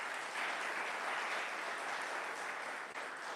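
Sustained audience applause at a church gathering, a dense, even wash of many hands clapping that continues throughout without pause.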